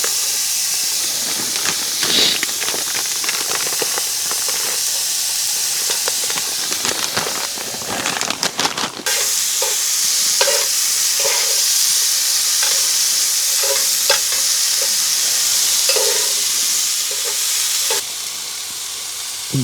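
Breakfast frying in a pan on a snowy morning in the woods gives a loud, steady sizzle and hiss close by, with clattering stirring scrapes at first and occasional pops and taps.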